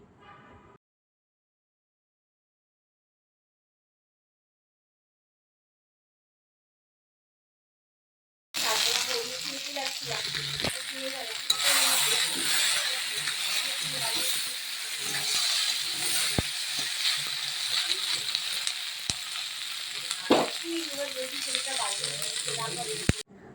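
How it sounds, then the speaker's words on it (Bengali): Vegetables frying in a pan: after a long silent gap, a steady, loud hiss and sizzle starts abruptly and continues close by, with occasional sharp stirring knocks and some voice mixed in. "চলো আমি এটা ভেজে নিই"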